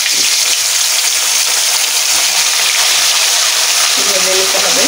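Pieces of rayna fish fry in hot oil, giving a loud, steady, hissing sizzle close by with faint clinks near the end. A voice may be heard briefly.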